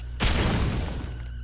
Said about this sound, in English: There was an explosion.